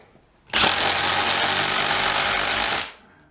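A DEWALT DCF801 12V brushless impact driver drives a thick screw in one loud, close burst of rapid hammering that lasts about two and a half seconds, then stops.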